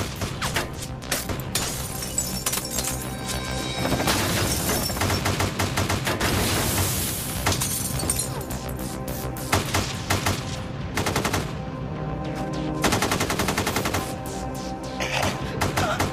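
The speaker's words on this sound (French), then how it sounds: "Ils tirent des centaines de coups de feu." Dense, continuous gunfire crackles with rapid bursts and volleys of shots, loud and relentless, layered over a chaotic background.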